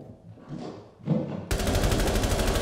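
Rapid automatic gunfire in the video game Rainbow Six Siege erupts loud and continuous after a few quieter thumps and shuffling noises, with no talking over it.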